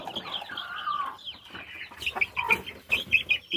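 Chickens at feeding time on a home garden plot, several hens clucking and squawking close by in quick irregular bursts, growing busier toward the end.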